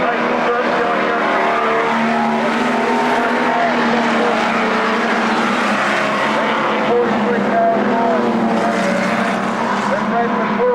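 Street stock race cars roar around a dirt track during the Rushworth standards final, a loud continuous engine drone with shifting pitch, carried under steady race commentary.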